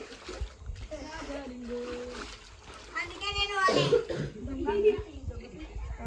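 Children splash and play in water, splashing surging and receding at close range while their excited voices chatter and shout over it.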